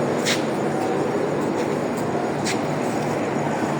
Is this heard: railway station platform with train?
yes